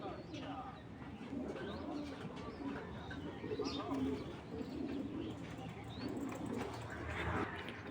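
Racing pigeon squabs and pigeons coo in low, repeated throaty calls, with some chirps and wing flaps mixed in, under steady background talk.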